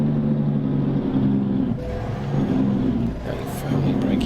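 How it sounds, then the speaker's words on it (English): A Cummins NRTO 6 335hp diesel in a heavily loaded truck in American Truck Simulator, its engine brake a loud, steady low chugging rumble that cuts off briefly twice and resumes. "Let's get on the engine brake."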